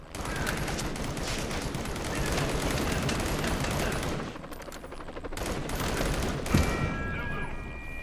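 Rapid, dense gunfire from a weapon in the VR game Crisis on the Planet of the Apes, a steady loud barrage of overlapping shots that dips briefly midway, then resumes with a sharp crack near the end.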